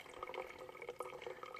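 Water being processed on a backpacking trip, with a continuous trickling, splashing flow and small irregular drips, close and fairly quiet, alone without voices.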